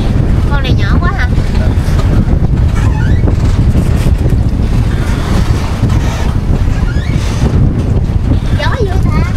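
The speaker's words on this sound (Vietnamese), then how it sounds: "Hồi nãy ở trong bờ thấy đứng gió mà sao ra đây gió dữ không biết." Strong wind blows over a choppy sea around a fishing raft, a loud, constant roar and buffeting rush against the microphone, with people talking faintly underneath.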